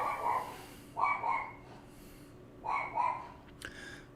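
A dog indoors barks in two paired bursts, each a couple of moderately loud woofs, separated by a quiet pause, followed by a brief sharp sound near the end.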